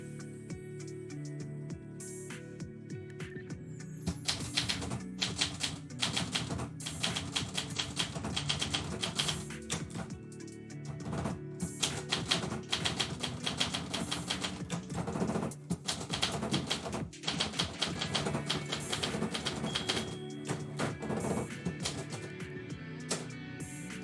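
Typewriter poetry session with a manual typewriter: a steady run of dense key strikes and clacks across the whole stretch, fairly close and continuous, with no talking over it.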